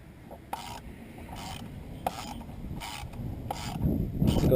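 Ratchet undoing 8mm bolts on the coil pack cover of a 1999 Nissan Maxima, repeated close clicking ratchet strokes in a regular rhythm, growing busier and louder toward the end.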